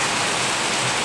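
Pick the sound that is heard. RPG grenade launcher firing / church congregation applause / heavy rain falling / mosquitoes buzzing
heavy rain falling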